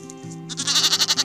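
Bighorn sheep bleating in the wild high plains, a quick run of loud, close, pulsing bleats that starts about halfway through, with a steady low hum underneath.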